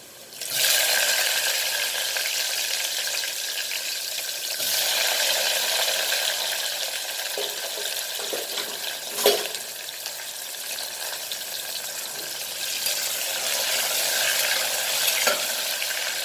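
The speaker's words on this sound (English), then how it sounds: "Now we'll add our onion to this." An onion frying in a pan while cooking dal palak pasta, giving a steady, close sizzle that holds for the whole stretch with a few brief clatters and stirs over it.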